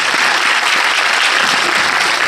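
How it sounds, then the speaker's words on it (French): An audience at a French film premiere for Le Lion applauds an actress, a dense, even wash of clapping from a full room, loud and sustained without a break. "vous pouvez l'applaudir"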